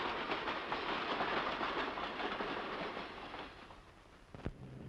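An ordinary freight train runs past with a dense, steady rumble and rolling rattle of cars that eases slightly toward the end, followed by a short knock, with no voices.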